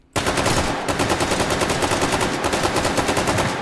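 Hip-fired rapid automatic gunfire in the VR shooter H3VR: a dense, loud, unbroken stream of shots beginning abruptly and hammering on close by.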